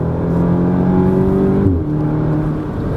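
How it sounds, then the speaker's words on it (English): A 2016 Audi S3 with its factory resonator deleted pulls hard at full throttle, the engine note droning loud and steady, then a quick gear change drops the pitch before it climbs again. "It sounds pretty good at full throttle."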